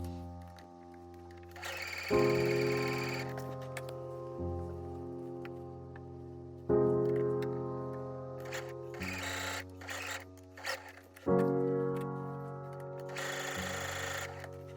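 A home sewing machine runs rows of gathering stitches along dress bodice panels, its motor humming in several bursts that stop and restart, with short clicks and shuffles of fabric handling in the pauses.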